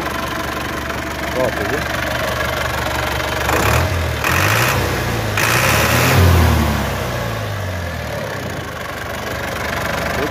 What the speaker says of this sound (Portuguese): Funciona lá pra nós escutar o barulho da caminhonete aí, faz favor.